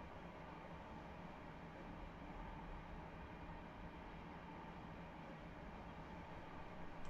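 Video game train rolling along and slowing, a low, steady rumble and hiss of wheels and engine that stays even and fairly quiet throughout, with no voices.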